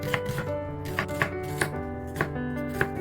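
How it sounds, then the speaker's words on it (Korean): Knife slicing onion on a cutting board while preparing a chilled bean sprout side dish, a series of crisp chopping knocks at an uneven pace over a faint musical background. "양파를 썰어줍니다."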